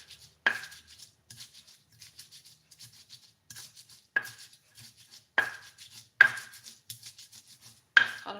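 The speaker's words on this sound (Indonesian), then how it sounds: "Kalau diulek begini lebih mantap cabainya daripada di blender." Chilies are pounded in a mortar with a pestle for a village-style fried rice, sharp rhythmic knocks at irregular intervals with softer grinding scrapes between them, close and clear in a quiet kitchen.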